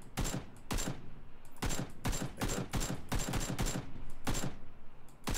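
Gunfire in the battle royale game PUBG comes as repeated sharp, loud shots in uneven bursts over a constant background rumble, with no voices present.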